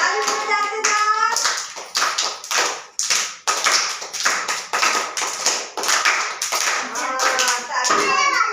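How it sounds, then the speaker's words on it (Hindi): Children at an anganwadi centre clap their hands while walking along a rope on the floor, producing a steady run of close, sharp claps with brief pauses between them. An adult voice can be heard over the clapping now and then. "ताली भी बजाते जाओ बच्चे लोग, ताली भी बजाते जाओ।"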